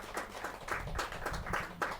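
An audience claps at a Hindi kavi sammelan, a poetry gathering. The applause comes in rhythmic, fairly close bursts roughly every quarter second over a steady background murmur.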